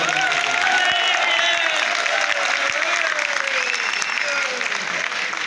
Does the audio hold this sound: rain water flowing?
no